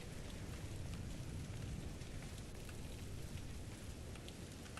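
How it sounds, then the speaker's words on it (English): Steady rain falling in the Skyblivion video game, a dense continuous hiss of drops that fills the whole stretch evenly and close, with no voices over it. "The rain."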